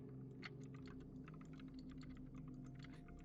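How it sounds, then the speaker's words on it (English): A computer keyboard clicks away in quick, uneven bursts of keystrokes. It sounds faint and somewhat distant over a low, constant background hum. "I hear typing."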